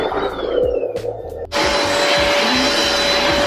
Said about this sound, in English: So when I go to vacuum the floor, I have to stop in between sessions.